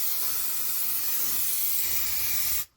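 An aerosol fly and wasp killer is sprayed inside a cabin in one long, steady, close hiss that lasts over two and a half seconds before cutting off abruptly.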